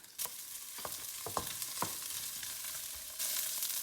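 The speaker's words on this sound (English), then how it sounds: "Brown a little bit and add white part of green onions" Spam and the white parts of green onions frying in oil for a glass noodle stir fry: a soft, steady sizzle with a few scraping stirs near the start and a louder burst of hissing toward the end.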